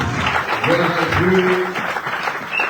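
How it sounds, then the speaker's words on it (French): A church congregation claps in a brief, dense burst of applause, loud and close, mixed with cheering voices and sung or called-out tones from the crowd. "Acclamez pour la gloire de Dieu"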